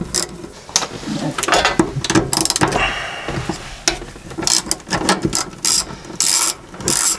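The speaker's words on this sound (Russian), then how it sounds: "Теперь нам нужна головка на 8, удлинитель и трещотка." Ratchet with an 8mm socket and extension loosening the fuel filter nuts on a Subaru Forester: close, loud clicking bursts in quick uneven runs, with short pauses between turns.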